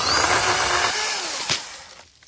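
An ATLAS 80V brushless cordless pole saw cuts through a tree branch, making a fairly quiet, close whirring buzz that fades out over a couple of seconds as the cut finishes.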